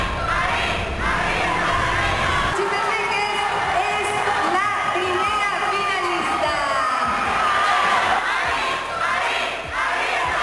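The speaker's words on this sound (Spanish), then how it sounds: "el público protestó" A large crowd at a Miss Universo Guatemala pageant shouts and jeers in protest over the result, with loud, sustained massed voices and whoops rising and falling throughout.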